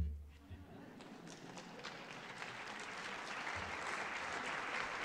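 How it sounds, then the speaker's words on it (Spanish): Applause from an audience at a lecture, building steadily from scattered claps into a fuller, continuous round of clapping. "Me alegro que aplaudan, porque muchas veces no nos gusta la autocrítica"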